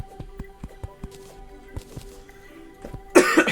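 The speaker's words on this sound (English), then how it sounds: "I've been coughing a lot lately." A single loud, harsh cough bursts out near the end, after a stretch of quiet tapping and light clicks.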